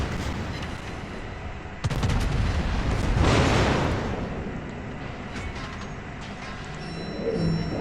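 Heavy naval gunfire from the battleship Bismarck in World of Warships, with a deep booming salvo and rumbling blast in the middle of a continuous battle roar, plus fainter distant shots around it.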